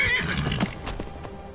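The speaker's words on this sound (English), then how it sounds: "What a good horse." A horse in the Skyrim VR video game whinnies loudly and close, a shaky neigh with faint hoof clip-clops beneath it, heard alone without talk.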